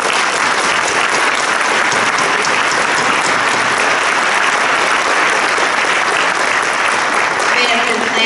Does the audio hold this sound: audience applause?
yes